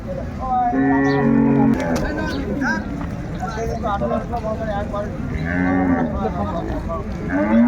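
Two long, deep moos from a cow and calf stand out, one early and one later, while several people talk and bargain over a noisy outdoor background at a cattle market in Raniganj, Dinajpur.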